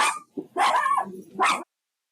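A pet dog barks in three loud, close bursts separated by short gaps, the last cut off abruptly before silence.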